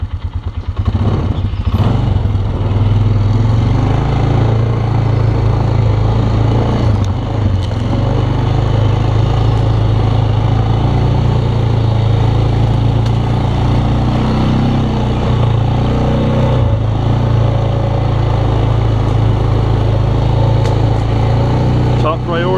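An ATV engine drones steadily and loudly nearby as it pushes off-trail through a backyard, with rattles and clatter over the low motor hum throughout.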